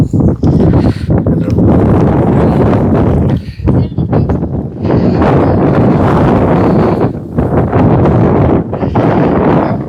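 Strong wind buffets the microphone at a hilltop viewpoint among cloud-covered hills in Idukki, a loud, continuous roar in gusts with brief lulls, and someone talks over it.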